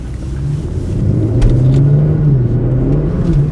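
A turbocharged manual car accelerates hard out of a U-turn, its engine note rising in a loud, close, continuous rumble for a few seconds with no talking.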